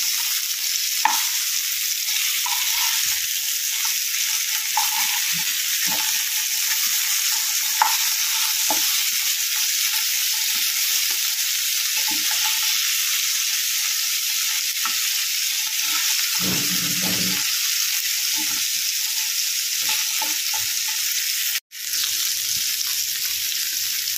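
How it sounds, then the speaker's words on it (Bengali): Fish sizzles steadily in hot oil in a home kitchen, a constant bright crackle with occasional soft clinks and stirring sounds, close by and without voices. "মাছ ভাজাটা হয়ে গেছে, একদিকটা উল্টে দেবো।"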